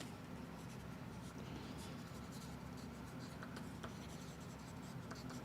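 Pencil scratches across paper as someone jots down a note, a soft, uneven rasp of strokes with small taps, faint and close, with no talk over it.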